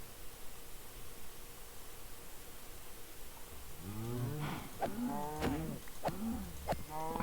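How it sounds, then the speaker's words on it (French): Cows moo in the Minecraft video game, several low drawn-out calls arriving in quick succession over a faint hiss after a quiet opening. "Je tue quelques vaches en passant, ça fait pas de mal."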